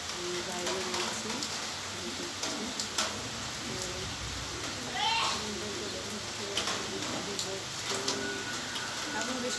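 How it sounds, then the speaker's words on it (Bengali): Rain falls outside a house, a soft steady patter under scattered bird calls and cooing, with faint background noise and occasional louder knocks. "এখন বৃষ্টিটা কম হয়ে গেল"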